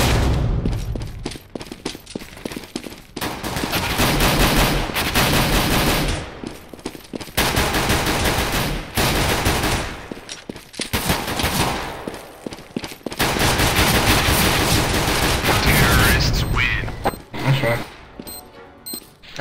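Rapid automatic gunfire from the video game CS:GO comes in loud, repeated bursts separated by short pauses, with a player talking intermittently over the shooting.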